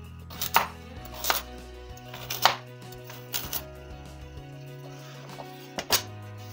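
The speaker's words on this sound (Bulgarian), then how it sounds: "Нарязваме ги на по-едричко." A knife chops vegetables into large pieces on a cutting board, several sharp irregular thuds with pauses between them, close by, over soft background music.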